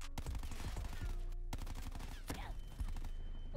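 In the Black Ops 4 Nuketown match, concussion grenades or flashbangs burst as several sharp blasts amid dense gunfire and rattling shots, loud and chaotic.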